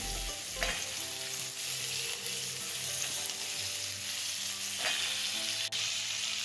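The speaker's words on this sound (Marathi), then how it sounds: "आता ह्या भाज्या तेलावर छान परतून झाल्यात. आता मी त्यामध्ये वांगी घालते." Mixed vegetables and eggplant frying in hot oil, a continuous close sizzle with occasional stirring clatters, no voices.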